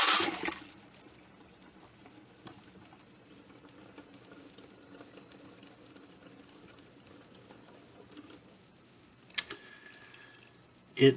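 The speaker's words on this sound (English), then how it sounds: "the water immediately drained out" Water draining through a freshly unclogged sink drain after treatment with Professor Amos Super Fast Drain Cleaner: a brief rush at the start, a long quiet gurgling trickle, and a couple of sharp splashes and clunks near the end.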